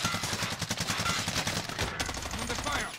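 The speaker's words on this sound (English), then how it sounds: "He's shooting at me!" Rapid automatic gunfire in the Call of Duty Warzone video game, dense overlapping bursts of shots running loud and continuous throughout, with faint voices underneath.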